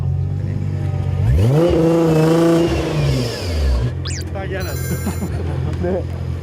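A 1000-plus horsepower Nissan R35 GT-R with a VR38 engine launches from about 3400 rpm on a standing 0-1000 m run. Its engine note swells into a loud rising howl that climbs and then drops, with people talking over and after it.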